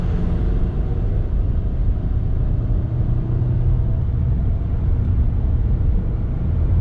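A Volkswagen driven at half throttle after losing transmission oil gives a steady, loud low rumble of engine and road noise, continuous throughout with no talk.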